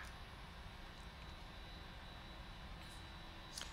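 PMDG 747 jet engine spooling up during an engine start in a flight simulator, a steady low roar and hiss holding at an even level for a few seconds, heard alone.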